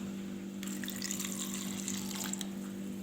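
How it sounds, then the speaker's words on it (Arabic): Water is poured from a glass onto garlic in a cooking pot, a steady gushing splash over a constant low hum, fairly close with no voices. "كنديروا الثومه، كنديروا معاها كاس ديال الماء"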